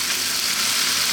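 Chicken pieces frying in a pan as garlic ginger paste goes in for a chicken potato curry, giving a close, steady, bright hiss of sizzling oil with no pauses; no talking.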